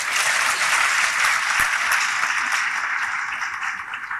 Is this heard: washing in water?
no